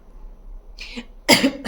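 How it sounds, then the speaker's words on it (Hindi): A single sharp cough bursts out after a brief faint throat sound, close and loud, with no talking around it. "सॉरी खांसी आ गई थी"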